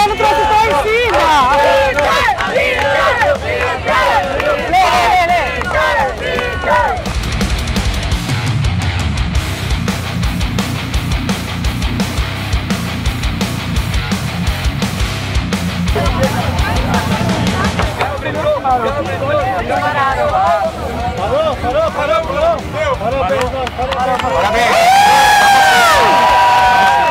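Supporters cheer for their contestant at a giant coxinha eating contest at a food festival, a loud, sustained crowd of shouts, whoops and excited children's voices, with talk and chanting mixed throughout.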